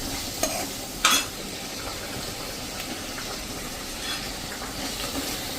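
Tomato tempering cooks in a pan with a soft, continuous sizzle, broken by a few sharp stirring scrapes and clinks; fairly quiet, with no talking.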